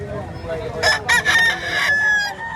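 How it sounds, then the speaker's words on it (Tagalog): A large rooster for sale at a market in Padre Garcia, Batangas gives a single loud crow that rises, breaks briefly and then trails off, close by, over faint background murmur. "Pero ang laking manok ha."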